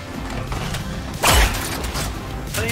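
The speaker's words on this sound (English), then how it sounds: "I'm reloading!" Weapon reload in a tactical shooter video game, a sharp mechanical clack and thump in the middle, set against busy game noise and background chatter.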